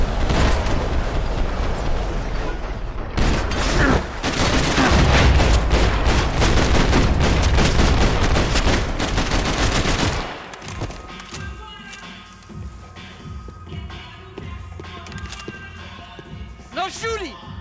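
Heavy gunfire and explosions in a shootout in Max Payne 3 roar densely for about ten seconds, then give way to quieter game ambience and mechanical clatter, with shouted voices mixed in.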